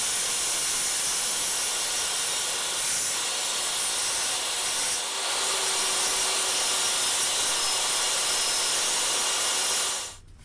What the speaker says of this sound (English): I'm going to cut the base plate and the outrigger base to size.